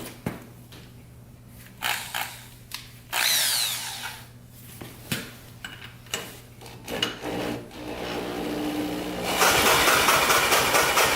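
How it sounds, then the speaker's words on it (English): An electric drill turns over a Yamaha Warrior 350 ATV engine in short bursts, whirring and grinding in repeated pulses with brief gaps, then one longer sustained run at the end; close and loud. "we're going to quick give this a little spin with the drill"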